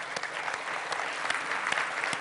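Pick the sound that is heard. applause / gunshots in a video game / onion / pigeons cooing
applause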